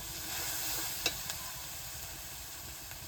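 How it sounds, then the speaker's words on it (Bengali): Spice paste of ground dried red chilli and black pepper frying in a pot over a low wood fire, a steady soft sizzle with a couple of brief stirring clicks. "এবার দিয়ে দেবো শুকনো লঙ্কা আর গোলমরিচ বাটা মশলা কষাচ্ছি"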